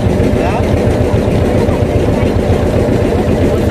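Motorboat engine running steadily on a river around Manipur island, a constant mid-pitched drone close by, with voices talking over it.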